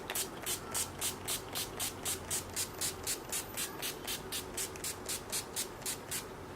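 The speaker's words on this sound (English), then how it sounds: "Some NYX Dewy Finishing Spray." Rapid, evenly spaced spritzes of NYX Dewy Finishing setting spray, around twenty quick pumps in a steady rhythm, close and soft.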